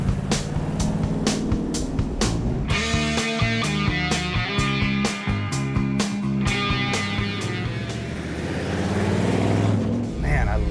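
A 1970s Ford Thunderbird runs while driving, its engine giving a steady rumbling drone under a cabin full of overlapping musical tones, with the motor sound holding at an even level throughout.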